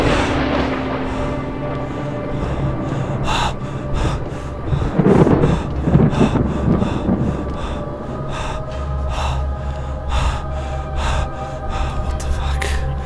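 A thunderstorm rumbles through a Halo: Reach horror machinima scene, with deep rolling thunder swelling in the middle and steady rain hiss throughout, mixed with heavy gasping breaths and no clear talk.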